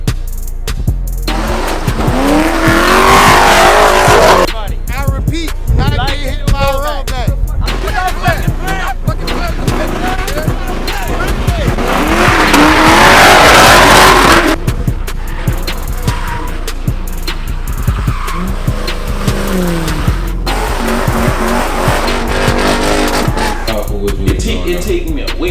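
Cars burn rubber at an illegal street sideshow in New Orleans, engines screaming in long loud revving bursts with tire squeal and smoke-laden roar, as crowd voices and shouting carry underneath.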